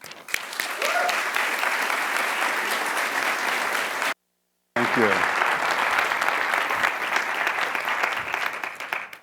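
Audience applause rings out in a conference hall as a speaker from the Los Angeles Metro Design Studio is welcomed on stage. The clapping is sustained and dense, breaks off briefly, then resumes, with a short spoken thanks over it.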